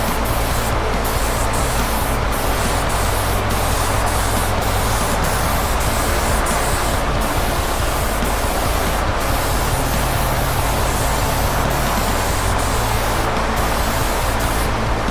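A spray can or gun lays a light tack coat of paint on an ESP LTD MH-100QMNT guitar body, a loud continuous close hiss lasting the whole stretch with brief small breaks.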